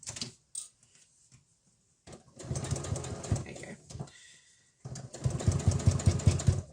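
A sewing machine stitches a fabric face covering with a filter pocket, reverse stitching over the folds in short buzzing bursts separated by quiet pauses, heard up close.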